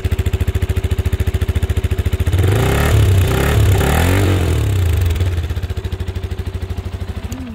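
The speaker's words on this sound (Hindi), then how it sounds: "एग्जॉस्ट इसका इतना मज़ेदार नहीं है मैं मानता हूँ, ठीक है, साउंड इसकी इतनी अच्छी नहीं है।" A Benelli TNT 150i air-cooled motorcycle engine idles with a rapid, even exhaust putter, revs up briefly, then settles back to a lumpy idle; close and loud.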